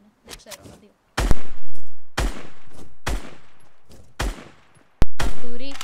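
Fortnite gunfire in a handful of sharp, loud shots spaced about a second apart, each cracking out and decaying, with a short pause before the last blast and brief speech between shots.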